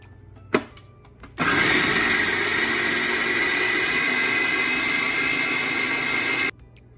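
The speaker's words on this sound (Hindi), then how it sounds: "शामी कबाब का जो गोश्त था वो गोश्त और दाल पिस चुके हैं" An electric food chopper grinds beef and lentils for shami kabab, starting after a few clicks and knocks, then roaring as a loud, steady whir for about five seconds before cutting off abruptly.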